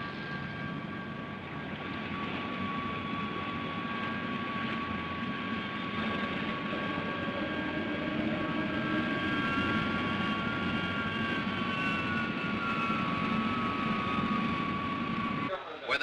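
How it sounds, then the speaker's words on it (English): Aircraft engines of the X-80 from a 1960 film hold a steady, loud drone with high whining tones through its takeoff roll, continuous and unchanging until a brief break at the very end. "X-80, standing by for takeoff."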